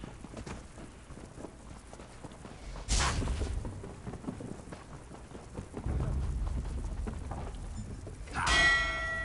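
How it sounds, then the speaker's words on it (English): A bell rings out in Elder Scrolls Online near the end, a bright ringing tone that follows steady rain-like game ambience and a louder rumbling burst earlier on. "Ding! Ring the bell."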